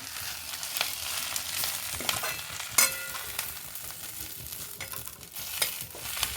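Drumstick (moringa) leaves sizzle and crackle as they fry in hot oil in a kadhai, with a spoon scraping and stirring the pan at intervals; no talking.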